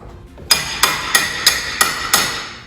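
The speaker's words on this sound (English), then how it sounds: "I'm gonna go ahead and tap on this again. That relieves a little bit of the tightness in the spring." Hammer tapping a garage door spring during a spring replacement, six evenly spaced sharp metallic taps, close and clear with no talk.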